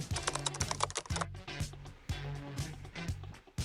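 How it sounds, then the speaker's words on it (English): Quick bursts of typing on a computer keyboard as a short post is written, close and clear clacking keystrokes in uneven runs with brief pauses between them. "let's type up something, a future me, type a short post right here"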